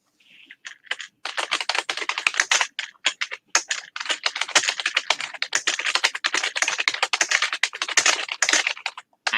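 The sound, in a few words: angry typing on a computer keyboard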